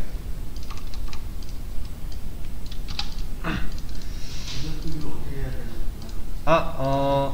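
Keys tapped on a computer keyboard, including the tab key, while code is indented in a Java lesson; light clicks scattered across the stretch, with a person talking over them.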